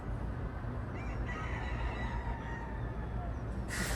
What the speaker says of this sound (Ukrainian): Он півні співають.